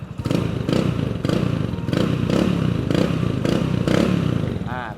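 A 2023/24 GPX Tuscany 150 motorcycle engine is revved repeatedly up close, about seven loud rising bursts in a steady rhythm, each falling back to a throbbing idle.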